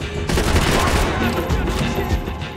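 Loud gunfire fills the scene in Max Payne 3: a sustained, dense burst of rapid shots that keeps going with little pause.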